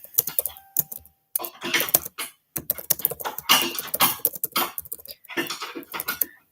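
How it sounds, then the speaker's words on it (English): Fingers type into a chat on a computer keyboard, close up, in quick uneven bursts of keystrokes broken by short pauses, with no talking. "I'm just going to type it into the chat as always"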